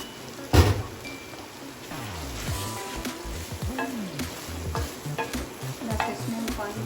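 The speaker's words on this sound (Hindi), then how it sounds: "अब इसको अच्छी तरह से हम भून लेंगे लहसुन अदरक को।" Garlic and ginger fry with onion and whole spices in a hot pan, sizzling steadily while a utensil stirs and scrapes through them in repeated strokes, close and fairly quiet.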